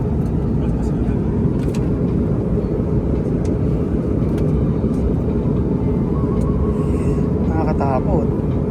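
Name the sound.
airplane engine noise heard inside the cabin during flight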